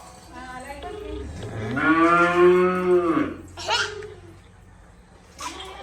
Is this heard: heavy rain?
no